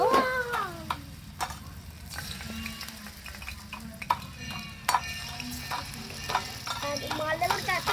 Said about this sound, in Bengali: বাকি বড়াগুলো এভাবে ভেজে নেব।